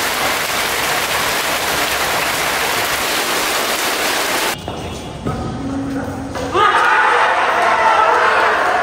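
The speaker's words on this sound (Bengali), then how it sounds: "প্রচণ্ড জোরে বৃষ্টি হচ্ছে।" Heavy morning rain pours in a dense, loud, continuous roar, which dips briefly midway before swelling again.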